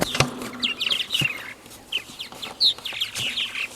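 Several purple martins call overhead in short chirping bursts, fairly faint and spread out, circling above a nesting colony, with scattered clicks and handling noise close by.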